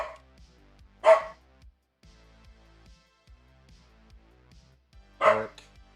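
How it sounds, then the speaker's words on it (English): A dog barks twice from a distance, two short separate barks a few seconds apart over a faint low ticking background. "Oh, you guys hear the dog?"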